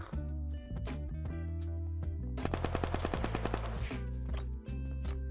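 Gunfire in the video game Unturned, with a rapid burst of automatic shots in the middle and a few single shots before and after, over steady game background tones.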